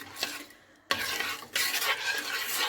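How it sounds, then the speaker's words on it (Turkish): A utensil scrapes and stirs through a tomato sauce with chopped peppers in a pot in two bursts, with a short pause between, close and fairly loud. "Şimdi bunların hepsini karıştıracağım arkadaşlar."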